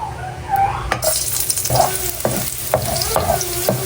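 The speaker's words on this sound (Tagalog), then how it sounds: "Ako po ay magigisa na po ng sibuyas at bawang" Garlic hits hot oil in a pan, sending up a loud, close sizzle with repeated sharp scrapes and clacks as a utensil stirs it, with no talk over it.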